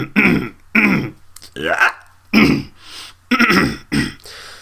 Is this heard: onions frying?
no